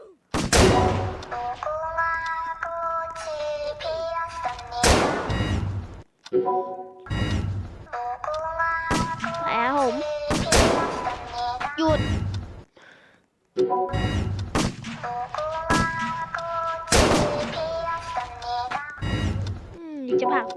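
Gunshots in a Squid Game mode video game ring out as loud, sharp bangs at irregular intervals, cutting through music and speech-like tones that continue between the shots.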